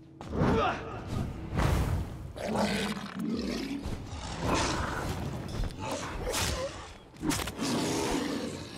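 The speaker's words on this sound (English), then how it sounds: "Oh, oh, oh. Explosion." Explosion in the video game Vampyr: heavy booming, roaring bursts and thuds of game audio, loud and layered over several seconds, with a player's voice reacting over it.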